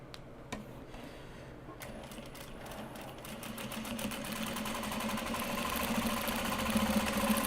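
A sewing machine stitches knit fabric, starting with a few isolated clicks and then running into a steady, close, rapid mechanical whir that grows louder and faster toward the end.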